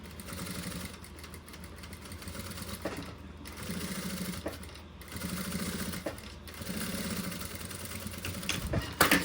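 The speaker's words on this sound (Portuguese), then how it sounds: "Faz uma costurinha aqui, a volta toda." A sewing machine stitches around the edge of a unicorn pencil case, whirring steadily at a slow pace with brief pauses and restarts. It is close and continuous, with no voices.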